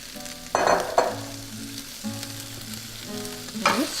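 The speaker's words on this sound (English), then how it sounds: "we're going to go ahead and wilt our spinach" Fresh spinach hitting a hot pan, frying and sizzling close by, with a couple of louder bursts as leaves drop in and clatter of stirring between steady sizzle.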